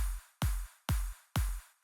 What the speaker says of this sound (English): Some drop claps.